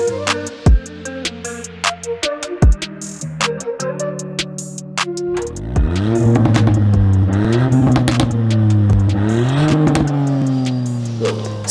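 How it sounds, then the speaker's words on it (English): A Ford Fiesta fitted with a Maxton and Milltek exhaust idles with sharp throttle blips, then revs up and down in long, loud sweeps, booming close by with no talk. "So as you probably just heard, the car sounds amazing."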